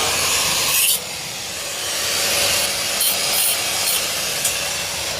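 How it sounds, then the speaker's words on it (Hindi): Metal is cut for a homemade waste-oil furnace, giving a loud, continuous, harsh grinding hiss that runs the whole time with brief dips and bright bursts, close and alone. "अब इसको लगा दिया निशान, कटिंग चालू।"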